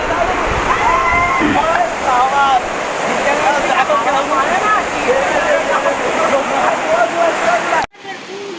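Waterfall near the dam at Palashbani in Purulia, a loud, steady rushing roar close by, with a voice talking over it and birds chirping, cutting off abruptly near the end.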